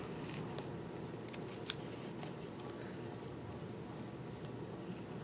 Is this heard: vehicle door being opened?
no